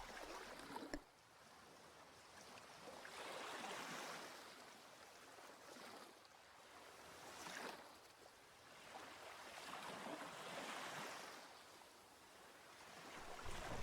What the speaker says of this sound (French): On peut entendre les vagues qui se brisent doucement sur le rivage